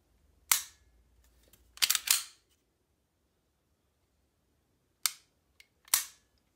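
Sig Sauer P320 pistol fitted with an Apex trigger kit, its slide cycled and trigger pulled and reset, giving sharp isolated metallic clicks and clacks, a close pair early on and two more crisp ones after a pause.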